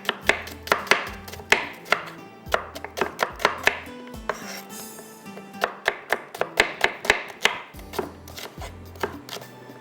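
Knife chopping onions on a board, a fast run of sharp, close, loud strikes with a few brief pauses, no voices, while oil heats for a mutton dhuwan masala.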